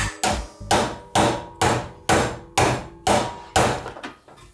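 A hammer strikes sheet metal to form a bend for a custom BMW R80 rear fender: about nine loud, close, evenly paced blows, each ringing briefly before the next.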